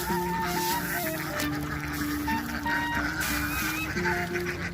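A flock of domestic ducks feeds on spread-out rice grain in the open, honking and quacking continuously and loudly with overlapping calls, no talk.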